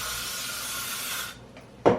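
Hairspray hisses onto hair in a soft, continuous spray for just over a second, then a brief pause and a short, sharper burst follows.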